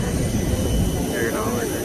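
A jet airliner's engine roars at an airport during boarding: a loud, steady, close rush of broadband noise with indistinct voices mixed in underneath.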